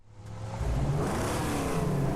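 A car engine in the Mad Max video game revs up hard and holds a loud, steady, growling roar, with no talk over it.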